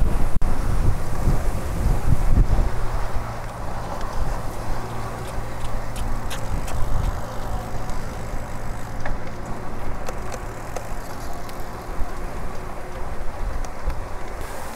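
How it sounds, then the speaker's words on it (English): Steady wind sweeps through roadside bushes on a bike commute in Japan, a continuous broadband rush with some buffeting on the microphone, heard alone throughout without any talk. "The wind just blowing all these bushes."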